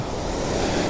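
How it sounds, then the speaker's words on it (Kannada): A constant roar of water flowing out of a lake fills the short moment, broad and steady with a windy, surf-like wash. "ಕೆರೆಸಿಂದ ನೀರು ಹೋಗ್ತಾ ಇರೋದು."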